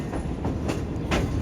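A long Pak Business Express passenger train pulls in at platform 2 of Hyderabad Junction station, its wheels clattering in a steady rhythm close by, with a few sharper rail knocks standing out.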